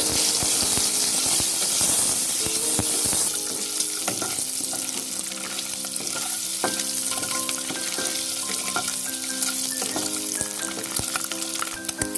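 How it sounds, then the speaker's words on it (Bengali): Quail eggs sizzle and crackle loudly in hot oil, a constant frying hiss with occasional clinks of a utensil stirring. "এবার ডিমগুলো দিয়ে দিচ্ছি। ডিমগুলো লাল করে ভেজে নেব।"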